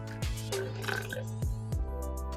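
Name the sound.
glass of water poured into barley sattu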